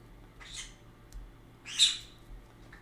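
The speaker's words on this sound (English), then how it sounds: "My birds are just feeling like screaming today." Pet birds screech indoors in two sharp, shrill calls about a second apart, moderately loud against a quiet room with a low background hum.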